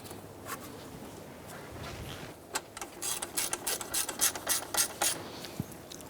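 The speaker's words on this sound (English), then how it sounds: "Go ahead and tighten up this bolt right here" A hand ratchet tightens a bolt on the power steering pump bracket of a 2005-2009 Subaru Outback, quick rapid clicking bursts in a fast run near the end, close and fairly quiet.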